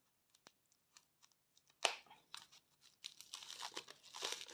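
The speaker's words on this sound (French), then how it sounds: "Avec une paire de ciseaux." Scissors cut open a package of scrapbooking supplies: a few faint snips and clicks at first, then a sharper cut followed by louder, continuous plastic crinkling and tearing close by.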